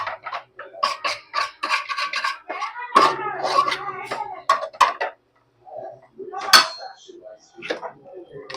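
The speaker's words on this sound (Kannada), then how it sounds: "ಚೆನ್ನಾಗಿ ಮಿಕ್ಸ್ ಮಾಡ್ಕೊಳ್ಳಿ, ಬಿಕಾಸ್ ಸೋಯಾ ಸಾಸ್ ಹಾಕಿದ್ದೀವಲ್ಲ, ಸೊ ಚೆನ್ನಾಗಿ ಮಿಕ್ಸ್ ಮಾಡ್ಕೋಬೇಕು" Soy sauce and tomato sauce being stirred together in a pan, with a spoon clinking and scraping against the metal in short irregular bursts. Someone talks over it throughout, with a brief pause partway.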